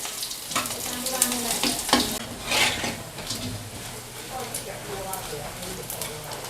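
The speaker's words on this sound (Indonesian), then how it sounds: "Kita goreng yang mewah, yaitu paha ayam dikasih sama Cece, telur dadar sama iwak asin." Chicken thighs, an omelette and salted fish fry together in hot oil, a steady crackling sizzle with sharper spits and pops, close by and continuous, with faint voices talking in the background.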